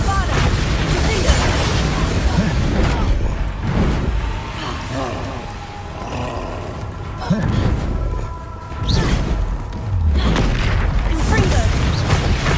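Repeated Bombarda and Confringo spell explosions in Hogwarts Legacy give booming blasts and crashes in a loud, busy fight, with a short lull midway before the bursts pick up again.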